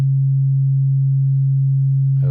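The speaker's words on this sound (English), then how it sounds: "there's our sine wave" A pure sine wave from a Haken Continuum synthesizer running the EaganMatrix: one loud, steady low tone held unchanged, ending with a brief noisy burst.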